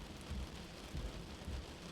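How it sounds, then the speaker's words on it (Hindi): Heavy cartoon rain pouring steadily outside a door, a dense constant hiss with low rumbling swells, no voices. "दरवाजे के बाहर बारिश पहले से भी तेज हो चुकी थी"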